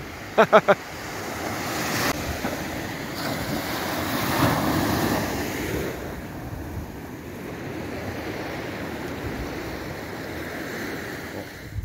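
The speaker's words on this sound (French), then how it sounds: "c'est pour montrer les vagues de ouf de l'espace" Large ocean waves rolling onto the beach at Deauville, a steady broad wash of surf with wind buffeting the microphone, swelling in the middle and easing off, with a few sharp knocks at the start.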